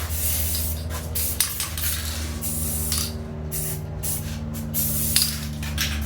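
Aerosol spray paint hissing onto a metal putty knife in bursts, several loud sprays of a second or two separated by short pauses, over a low steady background hum.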